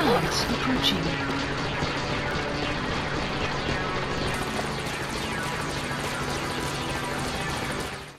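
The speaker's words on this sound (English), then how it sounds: "Support helicopter has arrived." A steady video game helicopter rotor drone fills the whole stretch, loud and close, with a brief voice near the start.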